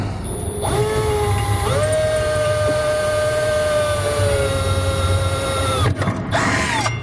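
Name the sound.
drill boring pilot hole in truck bed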